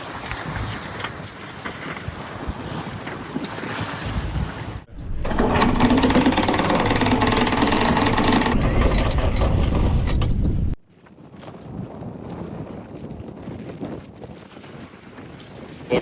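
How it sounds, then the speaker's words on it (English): A stiff breeze of about 25 to 30 knots buffets a 38-foot catamaran, roaring as heavy wind noise on the microphone with a louder gust-filled stretch in the middle and a lighter steady rush around it. "Quite a stiff breeze."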